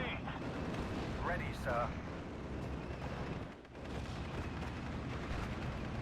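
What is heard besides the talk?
mortar fire in video game Steel Division: Normandy 44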